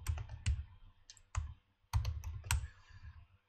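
Typing on a computer keyboard, close and fairly quiet, with uneven bursts of clicking keystrokes separated by brief pauses and no voice.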